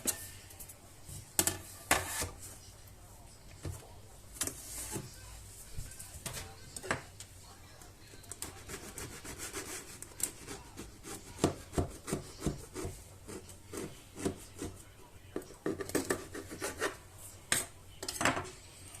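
A knife saws through a loaf of homemade bran bread, giving repeated dry, raspy rubbing strokes in an uneven rhythm with short pauses, close and fairly quiet.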